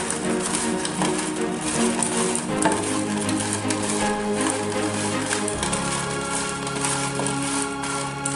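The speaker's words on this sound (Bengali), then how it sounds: "তেল গরম হয়ে গেছে, পটলগুলো আমি দিয়ে দিলাম।" Pointed gourd (potol) pieces coated in salt and turmeric fry in hot oil, giving a loud, dense sizzle and crackle close by, with scattered sharp pops throughout.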